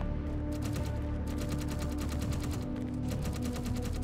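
Continuous rapid automatic gunfire in the video game Space Engineers, a steady rattling stream of shots under a dense, droning low background, with a few short pauses in the bursts.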